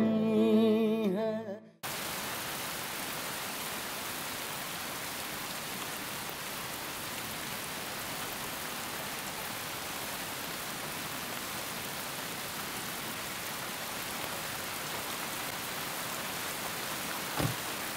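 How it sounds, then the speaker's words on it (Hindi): Heavy rain pours down steadily, a dense unbroken hiss of falling water that continues without a pause after a brief moment at the start. "काफी बारिश हो रही है"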